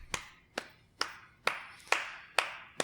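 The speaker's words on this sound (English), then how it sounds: "I'm clapping." Single pair of hands clapping slowly and evenly, seven sharp claps about half a second apart, close and alone with no talk.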